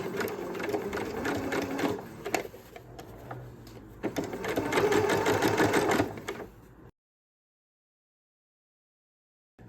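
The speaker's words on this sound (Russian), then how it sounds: "Прокладываем строчку." A sewing machine stitches a seam on a fuchsia dress in fast rhythmic bursts, loud and close, with short pauses between runs before it stops and leaves near silence.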